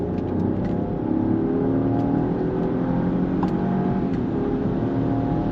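A Jaguar E-Pace engine revs up hard under kick-down acceleration beyond 5,000 rpm, a steady rising whir that stays loud and close throughout.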